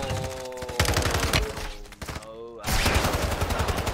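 Gunfire in a first-person shooter game, loud rapid bursts of automatic fire and a few thumping shots packed closely together, briefly breaking off mid-clip before resuming, with no talk.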